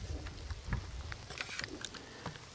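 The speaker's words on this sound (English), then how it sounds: "It's raining pretty good" Rain falls steadily outdoors during a whitetail deer hunt, a soft constant patter with scattered brighter drops and low rumbling wind, faint and diffuse throughout with no one speaking.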